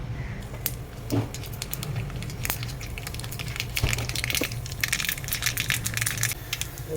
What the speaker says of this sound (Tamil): கொஞ்சம் கடுகு, கொஞ்சம் உளுத்தம் பருப்பு நல்லா போட்டுட்டு அதை தாளிச்சிடுவோம்.